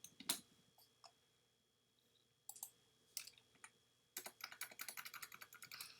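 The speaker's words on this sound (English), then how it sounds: "I'm just pressing the enter key on my keyboard." Keys on a computer keyboard click in scattered single taps, then break into a quick run of rapid typing, close and quiet in a silent room.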